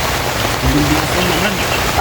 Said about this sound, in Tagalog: Abutan talaga tayo ng ulan to